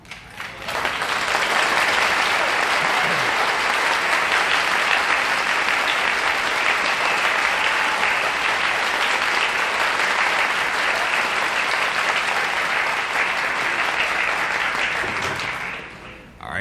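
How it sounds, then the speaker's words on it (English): Studio audience applause on a television panel game show as the mystery guest walks on, a loud, sustained wall of clapping that holds steady for about fifteen seconds before tapering off. "you can tell by the applause that it's someone that our audience is very well acquainted with"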